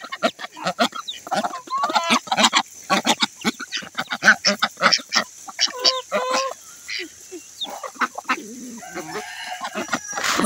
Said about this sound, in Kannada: ಒಟ್ಟು 4 ಬಾತುಕೋಳಿ ಇದೆ